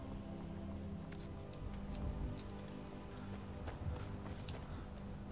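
Steady rain pours at night in the video game Skyrim, a dense even hiss of drops on surfaces with faint clopping hooves briefly underneath, no voices.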